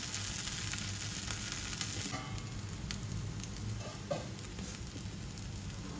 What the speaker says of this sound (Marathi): थोडं आपण आता शेकलं की काढून घेऊया। नंतर आपण त्या बाजूने पण शेकून घेऊया।